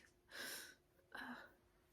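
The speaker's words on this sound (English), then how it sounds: "I gotta sneeze" Two quick breathy sneezes, close and fairly soft, the first a sharp burst and the second following a half second later.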